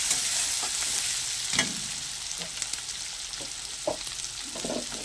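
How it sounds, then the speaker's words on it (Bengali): A spice masala of red chili powder and salt is stirred and fried in a pan while cooking kalbose fish, giving a constant hissing sizzle with scattered scraping knocks of the spatula. "ভালো করে মশলাটা কষিয়ে নেব।"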